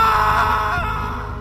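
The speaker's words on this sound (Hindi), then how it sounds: "फिर एक तेज चीख की आवाज आती है, इतनी तेज कि पूरे गेस्ट हाउस में गूंज गई।" Loud, sustained scream in a horror story, sharp and echoing through a guest house, ringing out alone for about a second and a half before fading slightly.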